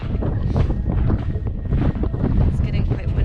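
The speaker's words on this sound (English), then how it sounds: "It's getting quite windy up here." Strong gusts buffet the microphone on the Sliding Sands Trail inside Haleakalā crater on Maui, rumbling in loud, uneven bursts that rise and dip across the whole stretch.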